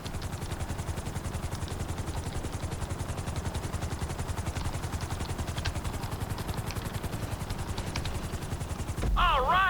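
A helicopter in the video game GTA 5 settles onto a helipad, its rotor chopping in a fast, steady pulse with a loud engine drone; a sharp tonal warble cuts in near the end.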